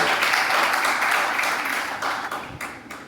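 Audience at a mushaira poetry recital in Gandhi Smarak Bhavan gives a poet loud applause, a dense, steady roar of many hands that thins toward the end.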